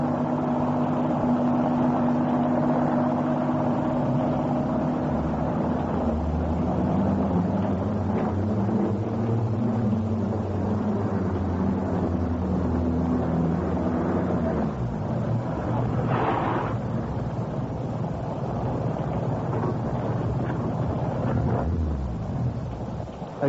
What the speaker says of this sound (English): Somebody's heard the car.